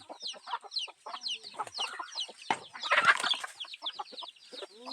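Several chickens cluck and chatter busily at once, a dense, continuous flurry of calls with one louder squawk partway through.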